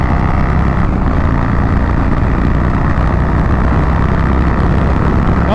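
A motorcycle fitted with a fairing runs at full throttle near 108, a loud, constant engine roar mixed with steady wind buffeting that holds unbroken throughout.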